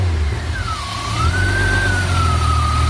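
A car engine idles steadily and smoothly after its O2 sensor was plugged, a low, even hum with a faint whine drifting in pitch above it, close and alone.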